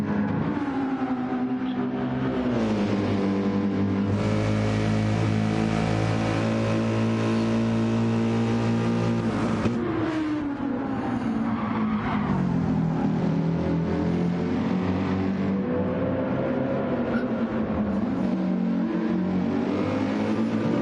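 A Mercedes race car engine howls continuously on the Goodwood circuit in a racing video game, its loud, high-revving note climbing and dropping through gear changes and braking, with no voices over it.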